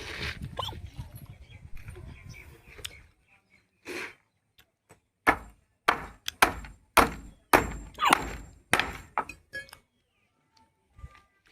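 Nail being hammered into a wooden shuttering plank on a beam formwork site: after a stretch of talk, a series of sharp, loud blows strikes in an uneven rhythm, about eight close hits followed by a couple of fainter taps.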